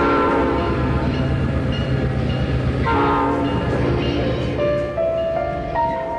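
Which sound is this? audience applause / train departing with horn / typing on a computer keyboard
train departing with horn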